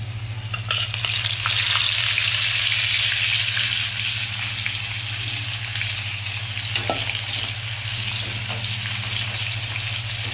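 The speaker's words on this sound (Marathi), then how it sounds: "कढई ठेवली, तेल तापले छान, आता तेलात तळून घ्यायचे।" Hot oil in a kadhai sizzles and crackles steadily and loudly throughout as sweet corn fries, over a low constant hum.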